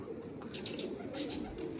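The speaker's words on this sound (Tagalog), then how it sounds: "Yan, may mga ibon." Faint calls and chirps of racing pigeons over a steady outdoor background hum, with a few brief higher-pitched bursts scattered through.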